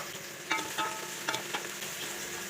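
Ginger and garlic sautéing in a pan for goto, a steady close sizzle with a few scraping stirs breaking through the frying hiss.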